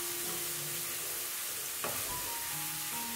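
Shallots and garlic sizzle in hot oil while being sautéed for chili oil, a dense, continuous frying hiss with a brief stir or scrape partway through.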